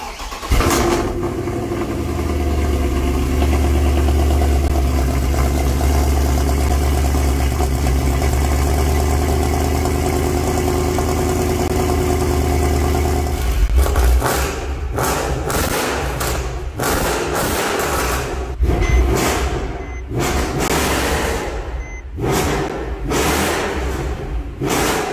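Mercedes W204 C63 AMG V8 exhaust with Benzworks headers, an H-pipe replacing the secondary cats, and the stock resonator: a loud, steady idle rumble that breaks into a series of sharp revs and throttle blips.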